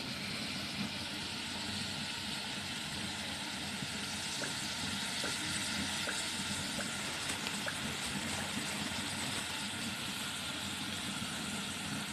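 Onions frying in oil in a pan, a continuous even sizzle and hiss held at a moderate level for the whole stretch, with no voices.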